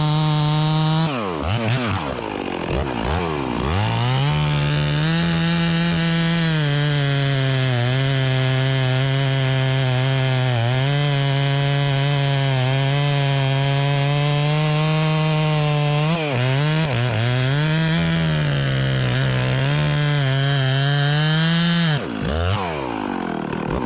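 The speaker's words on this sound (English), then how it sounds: "I went to these Sujihara lightweight bars for my saws, mainly for me and Skylar" Chainsaw on an 046 saw fitted with a lightweight bar, cutting through timber while felling a tree near a maple; loud, close and continuous, with the engine pitch dipping and rising under load throughout, no talk.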